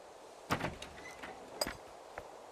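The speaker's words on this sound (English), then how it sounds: "The surprise is that all the doors are open, and that one just opened by itself" Doors in the video game Scum open on their own: a few faint, short mechanical clunks and slides, spaced irregularly over a quiet background, with no talking.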